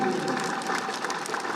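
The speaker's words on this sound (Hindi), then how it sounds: "इतनी ताली इधर से आनी चाहिए।" Crowd applause at a Haryana election rally in Gurgaon, a steady burst of clapping heard throughout the short stretch at moderate loudness, with a voice faintly mixed in.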